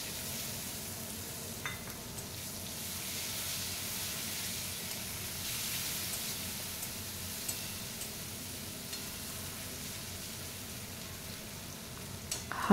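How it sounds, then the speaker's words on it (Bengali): Chopped onions sizzle steadily in hot oil with bay leaf and whole garam masala, the base for a Bengali doi katla curry of fish in yogurt, heard up close as a continuous dense frying hiss with faint stirring and no talk. "পেঁয়াজ কুচি করে রেখেছি, পেঁয়াজ কুচিটা এর সাথে দিয়ে একটু ভেজে নেব"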